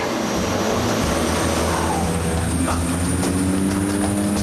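A steady, loud engine drone with a low rumbling hum, continuous and close, from a small propeller plane running at power near a crocodile in the South Pacific.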